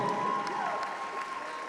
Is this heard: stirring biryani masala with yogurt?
no